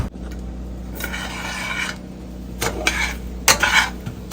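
A thick Diwali sweet batter with sugar syrup being stirred in a pan, producing scraping and rubbing bursts in uneven strokes, close and fairly loud with pauses between.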